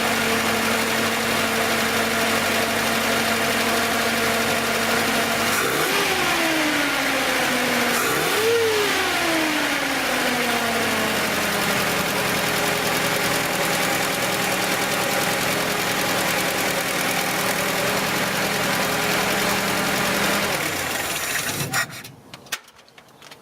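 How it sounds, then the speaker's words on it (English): A 1977 Datsun 620 engine fitted with plasma ignition runs steadily up close, revs twice in quick swells, settles back to a smooth idle, then cuts off at the very end. "As soon as that starter kicks on,"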